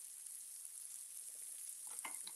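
Onions fry on a stovetop in a steady, soft, high sizzling hiss, with a few faint clicks and stirring touches near the end.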